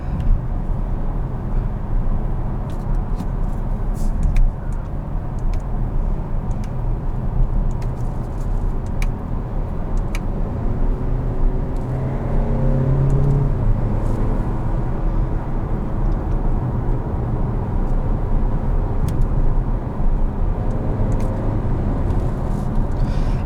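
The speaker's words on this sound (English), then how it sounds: "I mean, 4-cylinders don't typically sound good. This isn't bad at all." A four-cylinder car engine drones steadily from inside a refined, quiet cabin while driving, a constant low rumble with mild road noise throughout.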